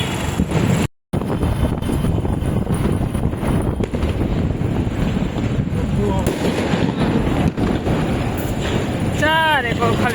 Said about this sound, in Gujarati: કેવા ફટાકડા ફૂટે